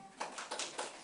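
Applause at a church teaching session, with a quiet patter of rhythmic hand claps repeating close together over about a second, faint and without speech.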